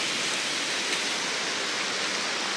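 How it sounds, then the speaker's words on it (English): Hail falling hard outdoors near a bus stop, a dense, steady broadband hiss of ice striking surfaces that fills the whole stretch without pause, close and fairly loud, with no voices. "I haven't seen hail in a long time."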